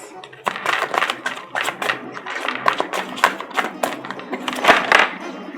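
Tarot cards being shuffled and handled: a steady run of quick papery flicks and soft taps, close and fairly loud, with no talking.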